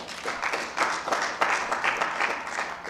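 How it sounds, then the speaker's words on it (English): A crowd claps in a steady round of applause at a nursing conference, swelling slightly and then holding, heard from within the room. "Please, can we give them a round of applause again?"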